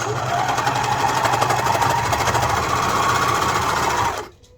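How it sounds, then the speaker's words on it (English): A serger overlocking a fabric edge hums with rapid, even stitching for about four seconds, then stops abruptly. "I'm going to serge the edge."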